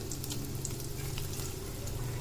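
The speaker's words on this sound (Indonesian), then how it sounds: "Dan ini minyaknya udah panas, mau Mbak Ica goreng dulu kentangnya ya teman-teman." Potato pieces fry in hot oil with a steady, dense sizzle and bubbling crackle, close and continuous without pause.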